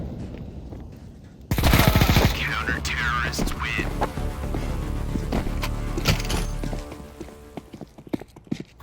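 Counter-Strike 2 gunfire breaks out in a loud opening burst, then carries on as rapid repeated shots and clatter over several seconds before thinning into scattered sharp cracks.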